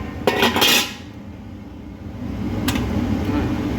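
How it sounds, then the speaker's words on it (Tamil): An oil-free egg omelette dish is set into a metal idli steamer pot with a short loud clatter of metal on metal, a second faint clink, then a low steady rumble. "இது எண்ணெய் இல்லாத நம்ம முட்டை அடை ஆம்லெட்டு இட்லி பானையில் நம்ம வைக்க போகிறோம்"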